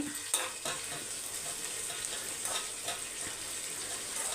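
Onions sautéing in oil in a pan for restaurant-style chicken 65 biryani, a steady faint sizzle with occasional spoon-stirring scrapes, heard alone without talk.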